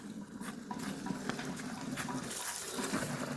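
Water is scooped and poured outdoors in a Lao village. The splashing and trickling is continuous and moderately close, with sloshing swells and no talking.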